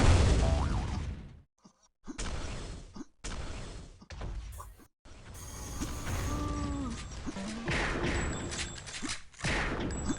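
Rifle fire in the Sauerbraten first-person shooter during a 3v3 efficiency capture-the-flag match, a few sharp separated shots amid loud busy game effects, mechanical clanks and bursts.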